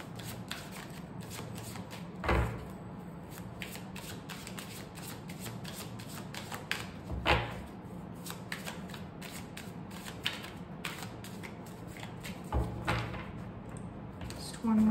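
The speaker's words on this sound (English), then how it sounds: "Just one more shuffle, Leo." Tarot cards being shuffled repeatedly with soft riffling and sliding, punctuated by a few sharper slaps as the deck is squared, under quiet background noise.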